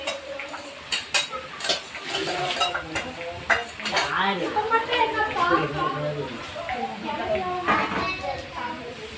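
Utensils clatter and scrape in a pot as a ground ginger mixture is stirred, with sharp metallic knocks over a steady rustling bed while people talk nearby throughout.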